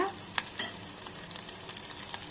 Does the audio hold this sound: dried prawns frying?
yes